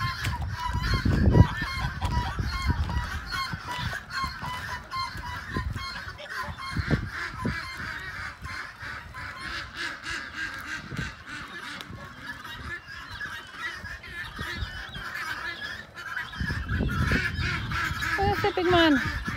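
Geese honk repeatedly at close range beside frozen pools with broken ice, loud bursts clustering near the start and end, with a voice talking intermittently over the flock.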